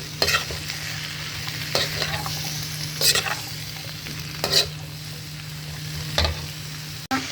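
Vegetables for lumpia being stirred in a hot pan with oil, a steady sizzle underneath and several distinct scraping stir strokes spaced a second or two apart, close and moderately loud.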